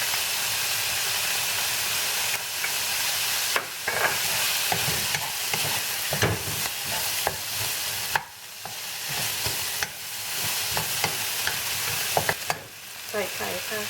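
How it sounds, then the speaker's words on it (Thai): Chopped onion and garlic stir-fried in a pan for egg and bacon pasta, a loud steady hiss of frying broken by repeated clanks and scrapes of the spatula. "ผัดให้หอมนะคะ"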